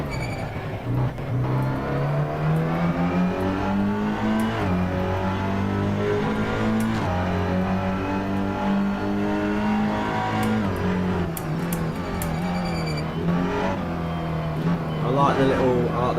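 A TCR touring race car's engine roars close up during a track test session, climbing through revs and shifting gears repeatedly, with a driver's voice talking over the steady engine drone.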